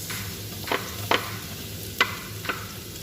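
Garlic and onion sautéing in a pan, a soft steady sizzle broken by four brief scraping stirs of a utensil, close and quiet.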